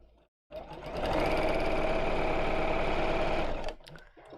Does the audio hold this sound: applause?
no